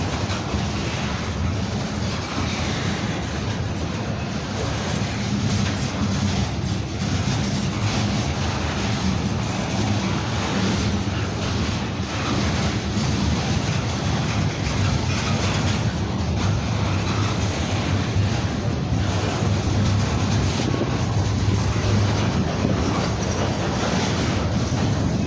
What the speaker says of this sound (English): Now I think the speed on the CN train is it's gaining speed a little bit.